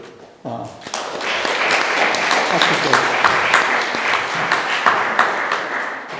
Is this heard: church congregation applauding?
yes